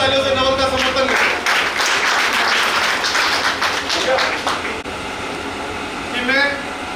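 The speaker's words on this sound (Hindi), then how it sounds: "तो एक बार जोरदार तालियों से नवल का समर्थन करें।" An audience at a 2023 program gives a burst of clapping lasting about four seconds, fairly loud in a hall with a constant background hum, followed by someone speaking.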